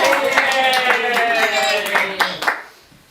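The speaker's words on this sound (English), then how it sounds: "everyone applauded loudly" An audience claps for a gymnastics performance, with sharp, scattered hand claps running under a voice that speaks throughout, then thinning out and dying away near the end.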